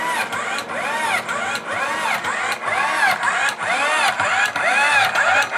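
A motor running in a basement, with a mechanism giving off a repeating rising-and-falling whine in regular cycles about every half second, loud and close over a low steady hum.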